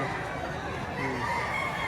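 Chickens and roosters at a busy poultry market in Batangas, a dense steady din of clucking and crowing blended with crowd murmur, continuous and fairly close throughout.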